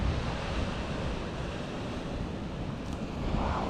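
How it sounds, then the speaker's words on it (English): Sea surf roars continuously at close range on Scotland's wild east coast, a dense wash of crashing waves and spray, loud and unbroken, with no voices. "it's quite scary when you see the sea just right there roaring away to itself"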